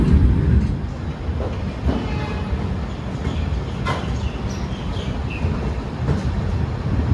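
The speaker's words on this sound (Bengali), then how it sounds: "ট্রেন খড়গপুর ঢুকছে" Howrah–Bangalore Duronto Express rolling into Kharagpur station, heard from inside a 3rd AC coach as a steady moderate rumble and rattle of wheels with occasional faint clicks and light squeals.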